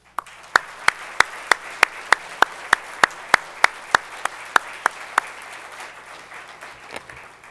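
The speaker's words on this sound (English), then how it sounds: "please give a big round of applause for Kyle Kaiser" Applause at a 2011 hall of fame ceremony for inductee Kyle Kaiser: a steady run of sharp, evenly spaced claps stands out over a softer bed of crowd clapping, thinning toward the end.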